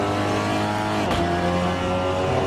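A Seat Leon TCR race car engine in Assetto Corsa revs hard and loud, its harmonic pitch steady, then dipping briefly at a shift before climbing again, heard close up with no one talking.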